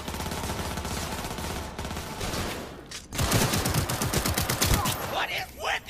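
Rapid gunfire in the video game Cyberpunk 2077, dense bursts from several directions, easing briefly before a louder, sustained volley of shots follows close by.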